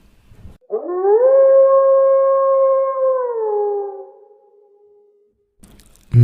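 A grey wolf's long, loud, sustained howl rises, holds steady for about three seconds, then slides down and fades, heard alone against silence as a storytelling sound effect.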